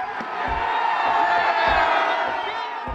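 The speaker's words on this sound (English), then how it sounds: "the crowd goes wild" A crowd in Ukraine roars and cheers as a Lenin statue just over 11 feet tall topples to the ground. The dense, sustained shouting is loud and close, with a few dull low thumps underneath.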